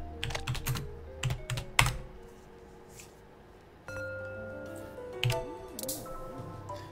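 Rapid clicks and clacks of computer keyboard keys during play of the restaurant cooking game Cook Serve Delicious 2, bursts of close typing over light game music and chimes.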